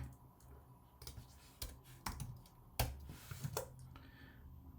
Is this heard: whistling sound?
no